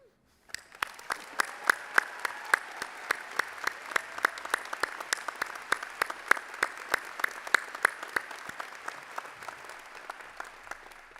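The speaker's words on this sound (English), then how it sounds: "I wonder if you guys would help me give Dr. Chapman a round of applause" Audience at a fall commencement ceremony applauding a piano player, steady dense clapping with a few sharper claps standing out, sustained throughout with no talking.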